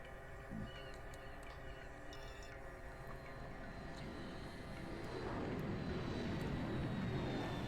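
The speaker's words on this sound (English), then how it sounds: "I do like how they worked in like a moving plane during all of this." A propeller airplane drones past overhead in a video game, a steady broad engine rumble that swells gradually louder toward the end, with faint game sounds in the background and no speech.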